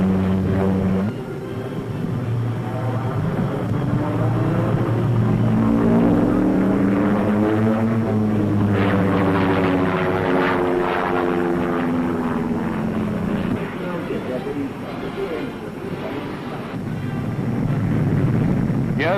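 Steady, loud drone of a Short Brothers turboprop aircraft taking off at an airshow, rising and falling engine tones as it powers up, continuous throughout with wind buffeting.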